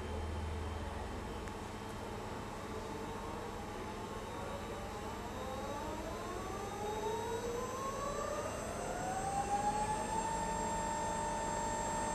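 A servo motor runs under load on a test bench, reversed to about 3,000 RPM, with a constant whirring drone and thin tones that rise in pitch as it spins up, fairly loud and with no voices.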